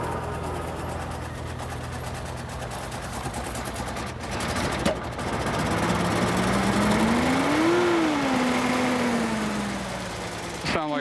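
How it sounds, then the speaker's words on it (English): An idling car engine misfiring on one cylinder runs unevenly with a rough, stumbling beat, a whining tone rising and falling over it, close and moderately loud. "It's not firing on one cylinder."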